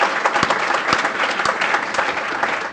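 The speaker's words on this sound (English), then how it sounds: "let's give Amy another round of applause." Applause from a seated audience after a healthcare talk, an even wash of clapping with a few sharp nearby claps standing out, moderately loud throughout.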